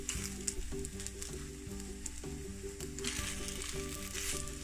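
Apple fritter French toast frying in a pan, a dense steady sizzle with crackling pops throughout, close and faint, with no speech.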